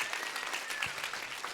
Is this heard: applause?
yes